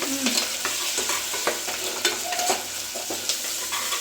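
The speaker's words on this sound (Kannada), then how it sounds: "ಕರ್ಬೇವು ಸೊಪ್ಪು ಅದು ಫ್ರೈ ಆಗ್ತಿದ್ದಂಗೆ ಈರುಳ್ಳಿ ಸ್ವಲ್ಪ ಹಾಕ್ಕೊಂಡು ಫ್ರೈ ಮಾಡ್ಕೋಬೇಕು" Onion and curry leaves frying in a pan, a constant sizzle with repeated scraping stirs and light clinks, close and steady.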